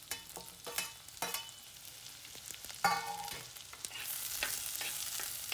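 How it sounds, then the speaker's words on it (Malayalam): Onion, green chili and curry leaves frying in a pan for an onion theeyal, a soft sizzle rising into a steady hiss, broken by a few scraping stirs and clinks; quiet and close, with no talking. "ഉള്ളി ഇട്ടിട്ട് അത് വാടട്ടെ. പച്ചമുളക് ഇടാൻ വേണം. വേപ്പില ഇടാം."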